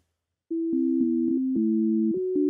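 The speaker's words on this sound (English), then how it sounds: "I wound up just using a stock synth sound." Three synth parts played together on a stock Resynth VST patch, clean sustained tones stepping between a few notes in a slow, steady pattern, alone and clear after a short silence.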